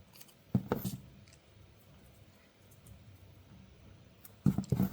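Scissors trimming washi tape on a wooden hair brush during a decoupage craft, giving two short close snipping bursts separated by a quiet pause.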